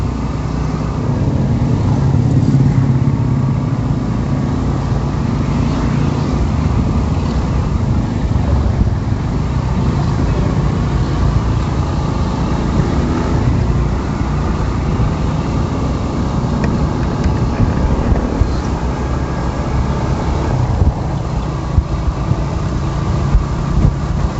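Steady broadband road and wind roar from a Suzuki motorcycle ridden along Lias Road in Marilao, Bulacan, continuous and close for the whole stretch with no voice.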